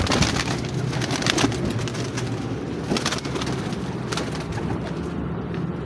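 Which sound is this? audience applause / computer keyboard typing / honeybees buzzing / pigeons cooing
pigeons cooing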